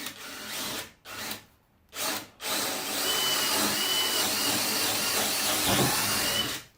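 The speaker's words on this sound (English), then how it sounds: "I'm using a 1/2 inch drill because it showed that it wanted a 1/2 inch curve" A 1/2 inch drill bores into a wooden boat frame, its steady whine stopping and restarting a few times before running continuously, loud and close.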